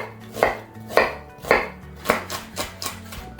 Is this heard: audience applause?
no